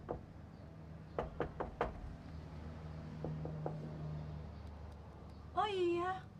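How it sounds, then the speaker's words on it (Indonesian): Someone knocks on a house door several times, a quick run of sharp raps followed by a softer set, with a voice speaking briefly just afterward. "Coba aja ketok lagi."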